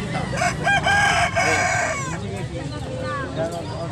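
Roosters crow repeatedly at a busy Philippine animal market in San Carlos, Pangasinan, loud and close, with overlapping calls and clucking fowl amid the general market bustle.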